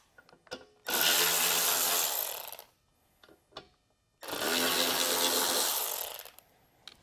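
A power tool whirs in two sustained bursts, each about two seconds, with quiet clicks and handling noises between, as flange bolts are backed out of a Boatlogix boat transducer mount.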